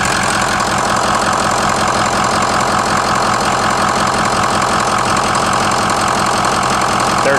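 A Ford 6.0 diesel engine idles up close, giving a loud, steady rumble with an even knocking clatter that does not vary throughout.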